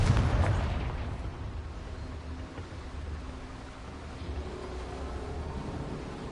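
A Confringo fire spell goes off in Hogwarts Legacy as a loud booming explosion at the start, then a long rumbling tail that fades into a steady roar.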